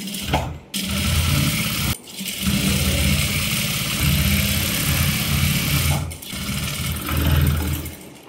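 Sewing machine running in long steady bursts while stitching the lining of a girl's silk blouse, with the motor stopping briefly between runs; loud and close, no talking.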